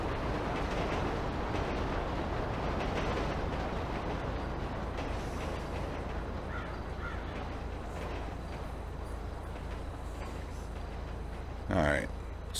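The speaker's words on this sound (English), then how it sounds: "So we'll wait for this train to go by so you can." A train passes by in the GTA V video game, a steady loud rumbling roar that slowly fades over several seconds, with a brief sharper sound near the end.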